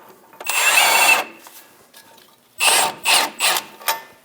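A power tool snugs down a ball joint nut on a Chevrolet Express front suspension, a long whirring burst followed by several quick short pulses, close and loud.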